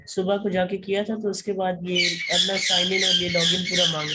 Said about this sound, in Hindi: पता नहीं आपके साथ एक तोता भी बोल रहा है